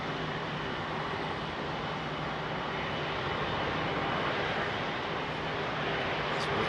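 A Boeing 787 Dreamliner jet at Heathrow on a long takeoff roll, its engines a steady, broad roar that holds level throughout with no voices.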